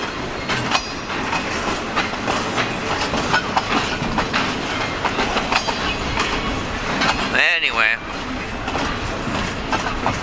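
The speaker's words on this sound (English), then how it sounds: "train is now off the main, so that means the other train can start coming this way." A freight train rolls past on railroad tracks with steady clickety-clack and broadband rumble across the whole span, loud and close, with a brief squeal-like sweep near the end and a spoken word early on.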